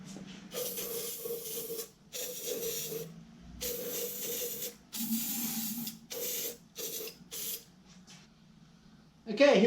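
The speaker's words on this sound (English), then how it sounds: "we want to spray a little bit of WD-40 in those top boots" Repeated short bursts of WD-40 aerosol lubricant spraying into the rubber boots of a machine being revived, hissing close and fairly loud in a start-stop rhythm of about eight squirts with brief pauses between them.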